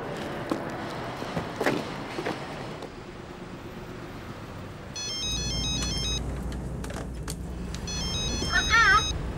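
Mobile phone ringtone chiming in a repeated electronic pattern inside a car, starting midway and continuing to the end over engine rumble and people talking.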